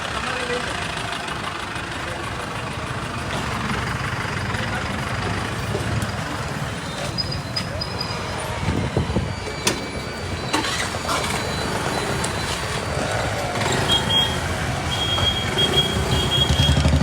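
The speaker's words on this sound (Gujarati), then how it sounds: "ક્રેન આવી ગઈ છે અત્યારે અને આ ગાડી આપણે ટોઈંગ કરાવવાની" A tow crane truck's engine idles on a street in Surat: a steady low rumble that runs throughout, with a few faint high beeps and background voices.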